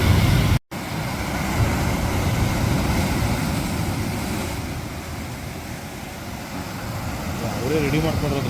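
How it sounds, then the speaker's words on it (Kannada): Roaring sea surf at Aazhimala on the southern coast, a steady loud wash of breaking waves with wind rumble, continuous throughout with a brief dropout near the start. "ಬೋರ್ಗರೆವ ಕಡಲು."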